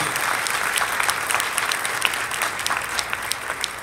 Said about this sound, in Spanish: Fuerte el aplauso al Señor por la vida del Padre Jesús.